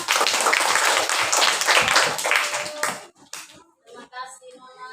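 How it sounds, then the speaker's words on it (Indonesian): A group claps hands rapidly together for about three seconds, loud and close, then a voice speaks. "tepuk tangan buat kita semua"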